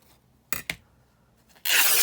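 Scissors make two quick snips close by on paper or card being trimmed narrower at a desk, followed by a louder rustling burst as the material is handled.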